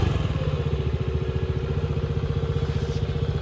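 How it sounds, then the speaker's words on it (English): A Venom X15 motorcycle engine idles steadily, warming up after its first start, with a fast even low thumping pulse and mechanical clatter, close and continuous with no talking. "So that's it, sitting there idling. And that's how your bike should idle."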